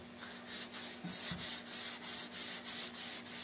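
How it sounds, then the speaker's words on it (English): Steady back-and-forth strokes of 320-grit sandpaper over a custom Mauser rifle stock after its first finish coat, about a dozen even rhythmic passes, close and clear with no talking. "I'm sanding it 320."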